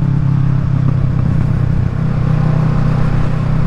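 Steady motorcycle engine drone from a Kawasaki Ninja 650 riding along the road, a constant low rumble with road noise and no letup, close and loud throughout.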